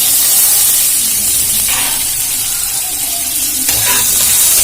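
Ginger paste and green chillies sizzling in a hot pan, a loud steady crackling hiss that runs throughout with a couple of brief stirring scrapes.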